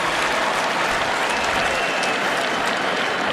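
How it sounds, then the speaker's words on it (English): A stadium crowd at a 2021 Boston College vs. Syracuse college football game applauds, a steady dense wash of clapping and cheering that fills the whole moment. "The crowd was applauding Sean Tucker's effort as he came off the field"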